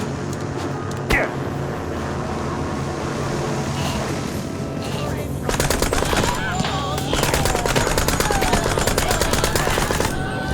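Rapid machine-gun gunfire in a shooter video game, a dense continuous rattle over a busy mechanical background that grows louder and more rapid in the second half, with no talking.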